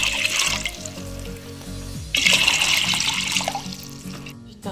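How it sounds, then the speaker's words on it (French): Water pours into a cooking pot for basmati rice, a steady splashing rush that thickens and brightens partway through as the flow strengthens, then cuts off at the end. "on va verser de l'eau."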